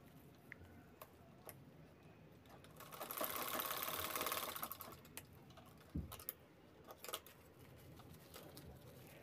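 A sewing machine stitches the corner of a silk purse, a quiet close whirring burst in the middle, set among soft clicks and handling taps before and after.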